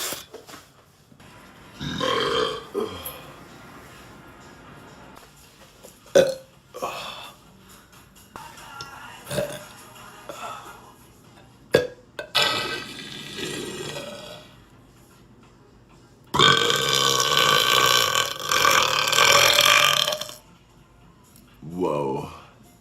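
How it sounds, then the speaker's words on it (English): A man burping on command, several long, loud, rumbling belches spaced between short remarks and laughter, the longest a sustained roaring burp of about four seconds near the end. "It's just like a weird talent to burp like this."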